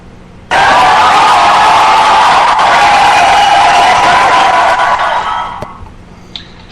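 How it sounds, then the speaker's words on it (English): Sudden loud burst of crowd cheering and whooping holds for about five seconds, then fades away, standing alone without talk. "Can we get a round of applause for that?"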